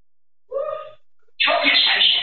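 A single sneeze from a person at home, a short voiced intake followed by a loud burst, then brief talk.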